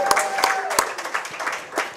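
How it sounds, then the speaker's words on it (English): A crowd at an evening coaches show claps loudly in a brief round of applause, with a few sharp, close individual claps standing out over the general patter, which thins out near the end. "Give yourselves a round of applause."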